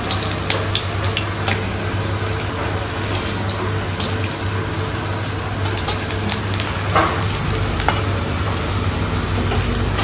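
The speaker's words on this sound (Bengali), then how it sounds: "এখানে আলুগুলো আগে ভেজে নিচ্ছে।" Potatoes fry in oil in a pan in a home kitchen, a loud, continuous close sizzle with occasional stirring scrapes and no talking.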